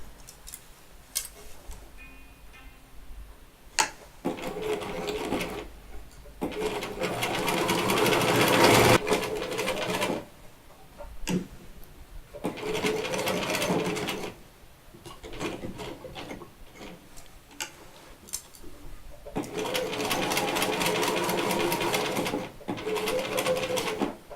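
A sewing machine stitches striped quilt fabric in bursts, a rapid mechanical whirring and ticking that starts and stops several times with quiet handling between runs.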